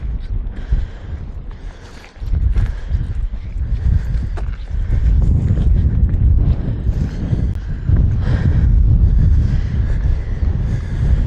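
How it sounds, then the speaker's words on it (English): Strong gusts of wind on the moorland of Kinder Scout buffet the microphone in rumbling, uneven surges, loud and close throughout with no clear speech. "It's a bit windy."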